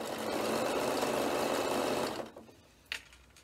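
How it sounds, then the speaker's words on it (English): A sewing machine runs steadily for about two seconds, stitching along an earlier row of stitches on a sequin pencil case. It then stops, followed by a brief click and quiet handling. "we're just going to stitch along that previous row of stitches"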